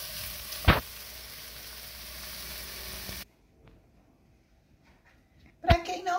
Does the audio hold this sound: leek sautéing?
yes